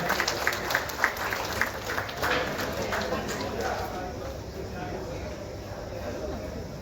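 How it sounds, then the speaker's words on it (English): Crowd applause at an award ceremony honoring students, broad steady clapping from a large audience in a hall, sustained and moderately loud with some sharper individual claps early on. "And can we have a big round of applause for sir, please?"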